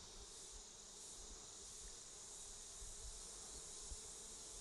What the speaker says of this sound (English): Look at the bees going in and out.